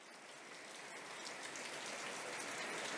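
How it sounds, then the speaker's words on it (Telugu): Heavy rain falls in a steady, dense hiss that swells slightly and stays constant throughout, with no voices over it. "ఇక్కడ బాగా వాన పడుతుంది"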